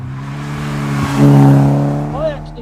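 An MK Sportscars Indy RX-5 drives past, its engine note rising and falling through a downshift, loud and close with a brief chirp at the end.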